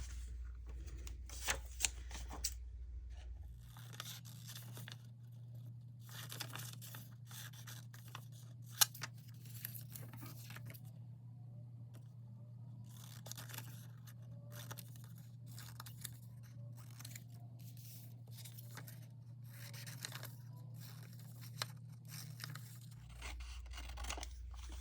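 Scissors snip paper pieces for a junk journal, giving quiet crisp cuts and rustling with a low steady hum in the background throughout.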